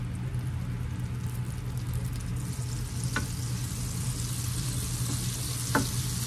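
Butter sizzling in a heated pan before shrimp goes in, a soft steady frying hiss with faint background hum and two short sharp clicks, no one talking.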